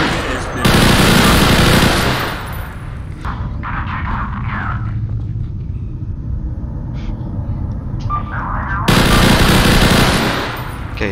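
Automatic gunfire in a Garry's Mod roleplay game, with two long, loud bursts at the start and end and scattered shots and clatter in between.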